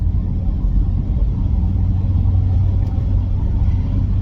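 A big white truck rolls past on the road with a heavy, low rumble of engine and tyres, close and loud, holding steady throughout.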